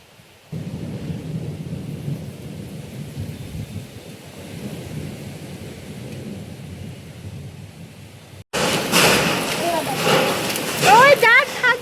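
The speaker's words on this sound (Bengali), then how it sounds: "মেঘ করে এসেছে আর প্রচুর ঝড় উঠেছে।" Thunderstorm outdoors with rain and strong wind on a hot afternoon, a low rumbling roar that swells, then a sudden louder burst of rain and noise with people talking.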